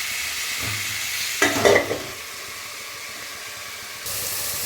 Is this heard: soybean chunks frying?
yes